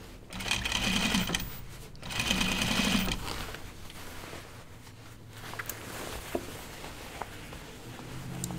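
Sewing machine stitching denim for a pair of jeans, two fast loud bursts of whirring stitching in the first three seconds, then a quieter stretch of handling and small clicks.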